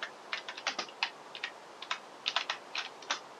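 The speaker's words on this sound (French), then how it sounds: "le son de mon clavier" Close-up clicking of a computer keyboard during Minecraft play, quick irregular bursts of keystrokes with short pauses, no voices.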